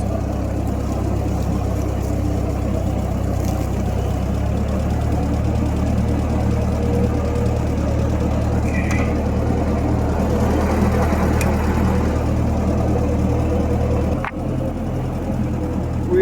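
An old tractor's four-cylinder engine runs steadily, a continuous low chugging drone with a knocking rumble, close and loud from start to finish with one brief dip near the end.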